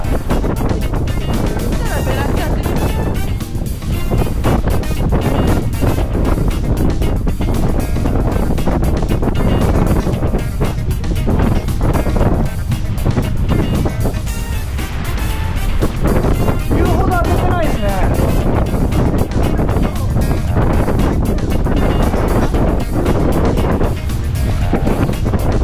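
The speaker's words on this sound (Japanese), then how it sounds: "北風が10メートルほど吹いております。" A strong north wind of about 10 metres per second buffets the microphone at sea off Ashika Island, Kurihama, with continuous low rumbling gusts, while people talk intermittently underneath.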